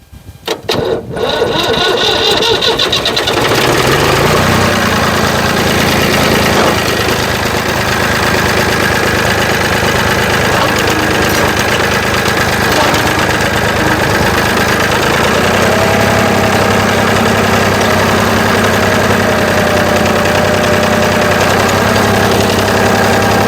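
A Ford F600 truck engine cranks and catches in the opening seconds, then settles into a loud, steady idle with a deep rumble that runs close and continuous to the end.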